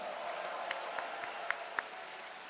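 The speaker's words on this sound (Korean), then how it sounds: "우리 김경수 후보님께도 뜨거운 박수 부탁드립니다" Sustained applause from a political party rally audience cheering a candidate at a primary results event, a steady dense wash of clapping with a few sharper claps standing out, fairly distant and even throughout.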